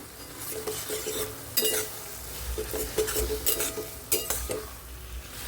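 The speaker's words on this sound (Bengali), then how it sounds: "দুধ দিতে হবে আর নাড়াচাড়া করতে হবে।" A spoon scrapes and stirs semolina pumpkin halwa in a pan as milk is added, with irregular clinking strokes and a faint sizzle underneath, close and fairly quiet.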